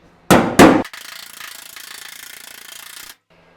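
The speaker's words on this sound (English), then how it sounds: "I'm just gonna go with the flattest side of it and get it back there as best I can and hammer out as much as we can to get it flat." Two sharp, loud hammer blows ring on the sheet metal of a 1940 Ford truck held against a body dolly, followed by a steady rapid rattle of tapping or a power tool for about two seconds before stopping.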